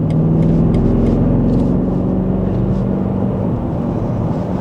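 Car engine hum and road rumble from inside a vehicle moving slowly through backed-up traffic, a loud steady drone with slight revving and no talk.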